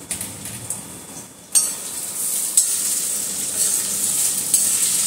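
Cut potatoes fry in mustard oil in a home kitchen pan with a steady bright sizzle, close and fairly loud, that jumps up as the pieces go into the oil, with light clinks of a utensil against the pan.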